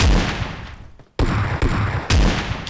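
Heavy gunfire from the shooter game PUBG Mobile, an AWM sniper rifle among the weapons: three loud, close booming shots, each followed by a decaying rumble.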